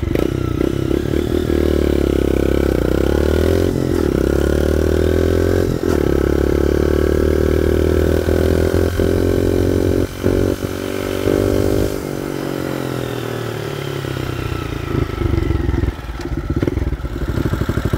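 A loud motorcycle engine with an open, raspy exhaust, its tip removed, drones and revs continuously, rising and falling in pitch, recorded from a helmet, with no voices.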